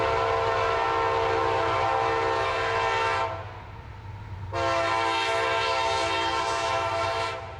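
CSX freight locomotives rolling past with a loud, sustained chorded horn that cuts out briefly and then sounds again, heavy engine rumble underneath.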